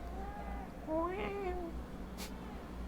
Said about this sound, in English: There's some careful meows from Thor.